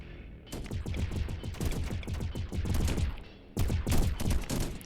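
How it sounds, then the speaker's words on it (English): Laser turrets in the swarm-survival RTS game Deep Amon fire in rapid repeated bursts, a dense crackling volley with a brief pause before another burst starts, loud and close. "laser turrets doing their thing"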